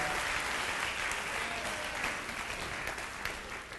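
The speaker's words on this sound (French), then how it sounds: "Je veux qu'on les applaudisse." Church congregation applauding, a steady wash of many hands clapping heard from a moderate distance, even and sustained with no talk over it.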